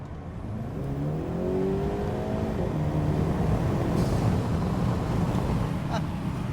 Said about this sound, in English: you can definitely hear it sucking in air